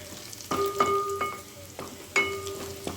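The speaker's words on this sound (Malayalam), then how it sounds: "ഇനി അത് നന്നായി ഇളക്കി യോജിപ്പിക്കുക." Garlic and ginger fry in a pan for fried rice while a spoon stirs, scraping and clinking against the metal in a few distinct strokes over a steady soft sizzle.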